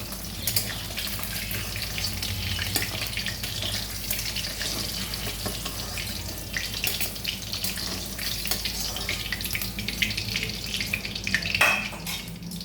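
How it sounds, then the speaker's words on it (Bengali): Pieces of catla fish frying in hot oil in a pan, a dense continuous sizzle and crackle, close and steady throughout, no talking. "এইভাবে আমি সব মাছ কটা ভেজে নিচ্ছি"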